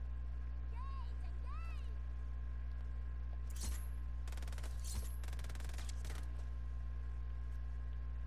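Shotgun fire in the video game Just Cause 4: a handful of sharp, booming blasts in the middle, over a steady low hum, with a couple of brief electronic chirps earlier.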